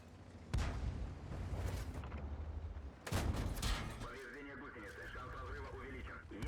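Artillery fires in a tank video game, with two heavy booming blasts a few seconds apart, each followed by rumbling, and radio-like chatter in the background.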